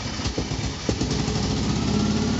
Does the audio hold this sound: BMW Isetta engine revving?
yes